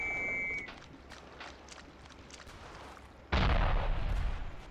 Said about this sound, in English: Artillery away!